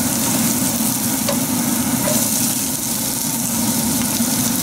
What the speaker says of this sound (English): This is a quick saute.